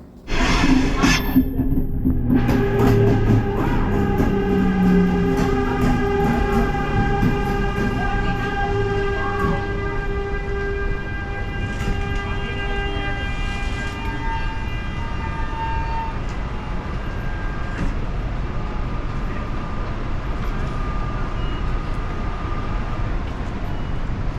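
A train at a station near the Rhine Falls in Switzerland: loud, steady rumbling with sustained whining tones layered on top, close by and continuous throughout, with no talking.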